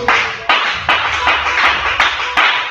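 A church congregation at a spiritual-warfare service claps loudly in a steady unison beat, about seven sharp, evenly spaced claps with ringing noise between them.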